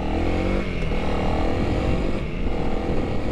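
A 2021 Honda CRF300L motorcycle rides on a dirt hill with the rear brake dragging, its engine droning loudly and steadily at close range, with a slight dip in the middle.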